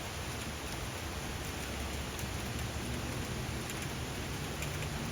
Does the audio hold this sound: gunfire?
no